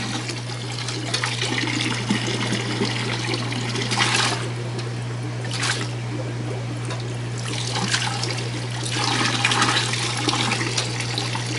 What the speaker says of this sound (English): then to siphon them directly out without taking out too much water at once